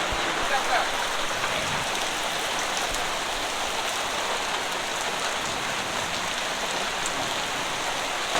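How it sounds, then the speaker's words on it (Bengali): Steady heavy rain pours down outside, a dense constant hiss and patter that never lets up, with no voices. "বাহিরে ঝুম বৃষ্টি হচ্ছে তো এই বৃষ্টির মধ্যে যে কোথাও পা ফেলবো সেই অবস্থাও নাই"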